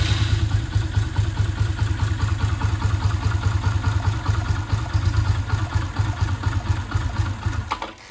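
An Orcal Sirio/Astor motorcycle engine idles roughly and unevenly, a steady close mechanical putter with clattering pulses throughout that cuts out near the end as it stalls.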